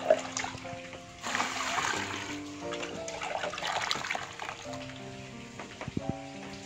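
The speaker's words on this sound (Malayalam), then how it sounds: "അതിലേക്ക് വെള്ളം ഒഴിച്ചു കൊടുക്കുക." Water poured into a bucket of home-made vegetable-garden fertilizer makes a steady splashing trickle that swells and fades over several seconds, close by with no talk.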